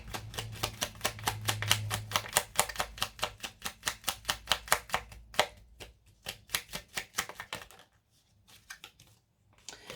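Tarot cards are shuffled and drawn by hand, giving a fast run of crisp, evenly spaced riffling flicks up close that thin out into sparse taps and slides before a near-silent stretch.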